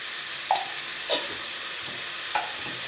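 Tomatoes sautéing with salt and turmeric in a pan for a brinjal and prawn thokku, a low, even sizzle with three distinct scrapes of the spatula spaced apart, close and moderately loud, with no talking.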